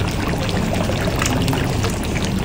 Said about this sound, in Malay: Masukkan air asam jawa.